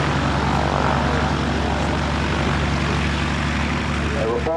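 A Hawker Hurricane propeller fighter roars loudly and steadily overhead at the Woodchurch air show, its engine drone filling the air without a break.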